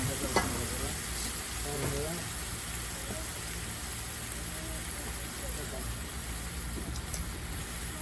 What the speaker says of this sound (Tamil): இஞ்சி உள்ளியை போட்டு நல்லா வதக்கணும்